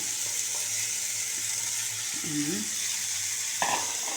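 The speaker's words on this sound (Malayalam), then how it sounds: "എന്നിട്ട് നന്നായി ഒന്ന് സോട്ട് ചെയ്യും" About ten finely chopped small onions (shallots) sautéing in a pan give a steady, moderate sizzle and hiss, with a faint tonal squeak partway through and a sharp utensil knock near the end.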